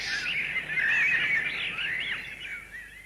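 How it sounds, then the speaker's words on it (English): Rare pheasants and assorted exotic birds call from the woods around an English country home, a bright, shrill run of whistling, warbling cries that rises in the middle and thins toward the end, with no talk. "Rare pheasants and a variety of exotic birds preen and scream in the woods"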